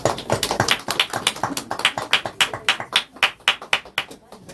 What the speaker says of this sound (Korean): 자, 우리 크게 박수 하겠습니다.